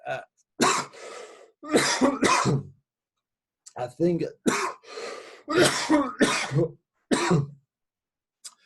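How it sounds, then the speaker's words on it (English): A person coughs several times in dry bursts between stretches of speech, close and clear. "bit of a dry cough there, nothing to worry about"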